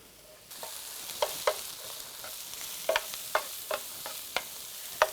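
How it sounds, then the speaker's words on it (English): Mushrooms and green peppers fry in a little oil in a skillet with a steady soft sizzle, punctuated by sharp clicks and taps of stirring, close up with no talking. "we're going to let our green peppers and our mushrooms cook until the green peppers are tender"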